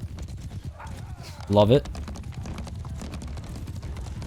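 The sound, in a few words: horse hooves galloping, horse archer riding in Mount & Blade II: Bannerlord video game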